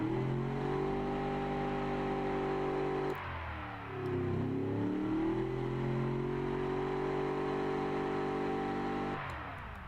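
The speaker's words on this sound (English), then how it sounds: "I'll hold it in the power band for a short while to show you how it sounds" A simulated car engine from the game Automation is held high in its power band, a steady, buzzing drone that dips briefly and then swells back, with no talking over it.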